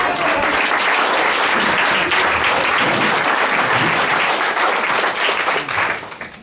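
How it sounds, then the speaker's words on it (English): An audience applauds an improv comedy cast, a dense, loud, continuous wash of clapping that holds steady for several seconds, then thins out and fades near the end. "Can you give a big round of applause for our wonderful talented cast?"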